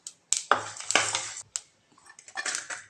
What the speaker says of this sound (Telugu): ధనియాలు ఫ్రై అవుతున్నాయి